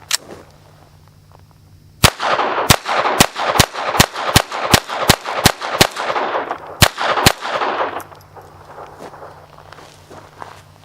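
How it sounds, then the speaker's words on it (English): A Walther PPQ pistol shooting mixed round nose, hollow point, copper plated and plain lead rounds outdoors, about a dozen sharp, loud cracks fired in a fairly steady rhythm, with a short pause before the last two. "So let's fire 12 rounds"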